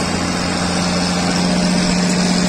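An old harvest truck engine roars at a steady, loud drone with a low hum underneath, close and constant throughout without a clear rise in pitch.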